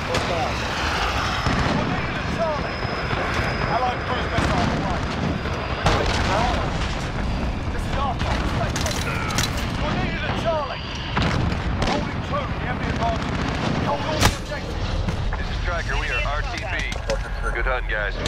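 Gunfire and artillery booms in Call of Duty: Modern Warfare, a dense, loud battlefield wash of blasts and rumbling explosions with sharp cracks scattered throughout, under near-constant radio-style voices talking.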